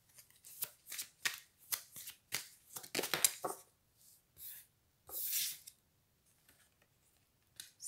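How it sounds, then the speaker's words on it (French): A deck of playing cards is shuffled in a rapid series of crisp, riffling bursts, then a longer ruffle and a few soft taps. The sound is close and quiet, with no talking. "avant que je batte les cartes."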